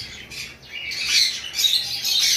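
A pair of Fischer's lovebirds squawks in harsh, overlapping bursts, close and fairly loud, with no pauses across the short stretch.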